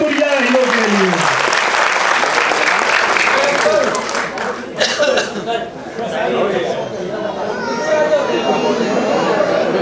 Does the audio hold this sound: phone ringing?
no